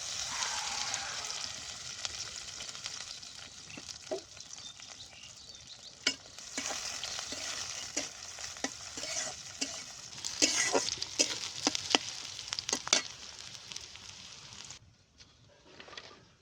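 Onions and green chilies fry in oil with a steady close sizzle, while spoon scrapes and clicks against the pan punctuate it and a dove coos faintly in the background.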